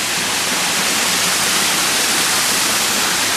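Artificial park waterfall of dyed town water pouring from a pipe produces a constant, loud, broadband rushing roar, steady and close without variation or voices.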